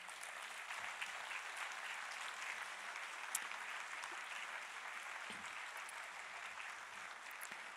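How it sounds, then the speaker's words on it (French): Audience at a mayor's New Year wishes ceremony in Calais applauds in a steady, even wash of clapping, moderately distant and unbroken throughout. "Je vous remercie de les applaudir bien fort"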